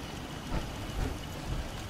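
Steady rain falling in the video game Fallout 4, a dense, even hiss with faint low rumbles beneath, moderately quiet and uninterrupted, with no voices.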